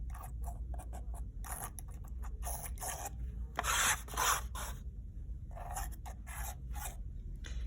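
Palette knife spreading paint across a canvas background, producing a series of close, quiet scraping and rubbing strokes in an irregular rhythm, with one longer, louder smear near the middle.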